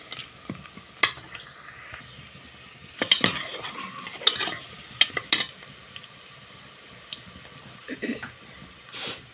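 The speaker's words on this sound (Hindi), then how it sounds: "दाल में तड़का लगाया हुआ है।" Dal tempering (tadka) sizzles in a pan over a clay stove, a soft steady hiss broken by a few sharp clinks and stirring scrapes, with a voice faintly present.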